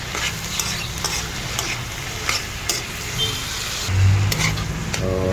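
Beef sizzling in a pan, a steady loud frying hiss with scattered pops and occasional scrapes of stirring, no voices.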